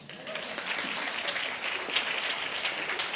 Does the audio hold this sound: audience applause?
yes